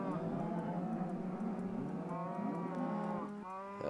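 A cow in Minecraft gives a long, loud, close moo that runs nearly four seconds, with a steady low drone under it and little else.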